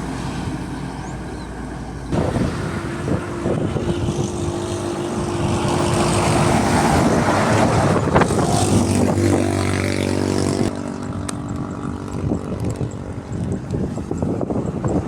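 Hino trucks, including a Hino 500 and a Hino FL 235 TI pulling container trailers, drive past on a road with a loud continuous engine rumble and road noise that swells and shifts as the vehicles go by.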